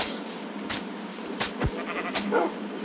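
A sheep in the Minecraft video game bleats several times in short, quick bursts, heard clearly and nearly alone over faint background noise.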